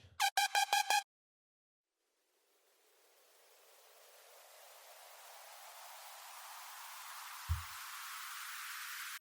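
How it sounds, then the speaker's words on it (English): A white noise riser in a house music track swells slowly from silence, hissing louder and brighter over several seconds, preceded by a short burst of beeping tones and a low thump. "It's just quite a nice white noise riser"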